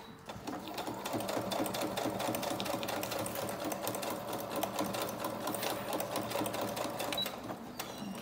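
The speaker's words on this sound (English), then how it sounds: "I thought this was all going a little bit well for me with the sewing machine" A sewing machine stitches a small fabric snippet with a bookplate, giving a steady, fast mechanical whir and rattle that runs unbroken and close throughout with no talk.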